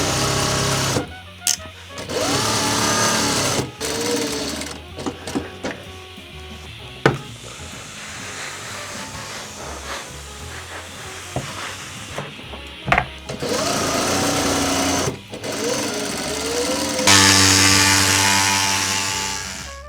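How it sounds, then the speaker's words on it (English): A sewing machine stitches a workwear jacket in several bursts of steady mechanical whirring and rattling, broken by short pauses, handling noises and fabric shuffling, all close and fairly loud. "So I need to do a little bit more sewing."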